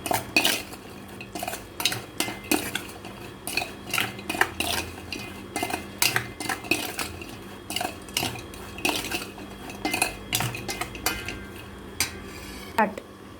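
A spoon stirs and scrapes through prawn pickle with salt and chili powder in a dish, producing repeated close metallic clinks and scrapes in an uneven rhythm.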